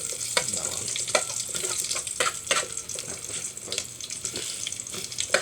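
Garlic frying in oil for spicy sardines, a continuous close sizzle with brisk crackles and repeated stirring scrapes against the pan.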